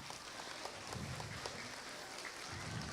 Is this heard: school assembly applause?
yes